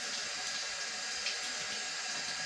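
Tap water runs steadily into a sink during handwashing, a continuous hissing splash at low volume with no voices.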